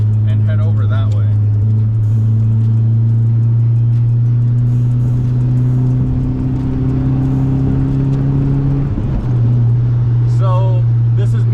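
A cantilever suspension mini truck cruises on a highway at about 80-85, giving a steady, loud engine drone and road rumble throughout, and its pitch dips briefly near the end.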